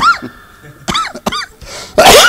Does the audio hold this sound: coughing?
yes